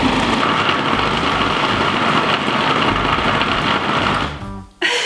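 A blender runs steadily and loudly on a thick vegan cheese ball mixture, a continuous whirring drone that cuts off abruptly near the end.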